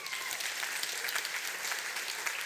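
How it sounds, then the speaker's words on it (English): An audience breaks into steady, continuous applause, the dense clapping holding at an even level for the whole stretch with no speech over it. "Give them a round of applause."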